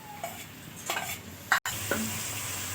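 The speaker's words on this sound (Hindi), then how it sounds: "इनको हम 2 मिनट के लिए फ्राई करेंगे।" Finely chopped tomato and green chillies fry in a pan, giving a soft steady sizzle broken by a few brief stirring scrapes and light utensil clinks, heard close with no talking.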